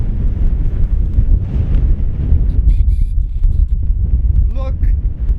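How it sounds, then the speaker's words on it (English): Strong wind buffeting the microphone on a windy mountain peak, a steady loud rumbling roar that fills the whole stretch, with a few faint higher sounds briefly poking through. "Very windy, so I've abandoned my beloved hat,"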